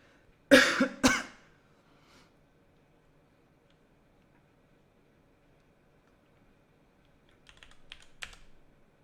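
Two loud bursts of noise open the stretch, then a long quiet spell before a short run of faint, scattered keystrokes from typing on a computer keyboard during a Geoguessr game session.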